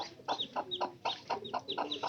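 A hen near hatching chicks clucks in short rhythmic bursts, with thin high peeps mixed in, close and moderately loud with no talking.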